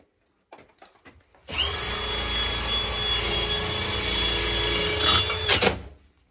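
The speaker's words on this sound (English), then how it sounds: "Oh, careful with the drill" A power drill runs continuously for about four seconds at close range, loud and steady with a high whine, starting after a few short knocks during steam boiler replacement work, then cutting off abruptly.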